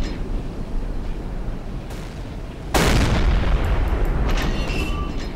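A submarine deck gun fires in Silent Hunter 3, with one sharp, loud boom midway over a steady background rumble, followed by a lingering rolling tail.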